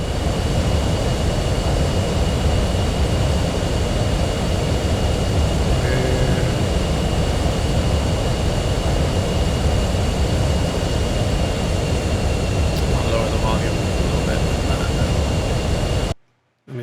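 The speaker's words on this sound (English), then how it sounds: "Let's catch that plane for its takeoff." A jet aircraft in the DCS flight simulator, an F-14B Tomcat, roars steadily during takeoff, a loud continuous engine rumble and hiss with faint tonal whines, ending abruptly in silence.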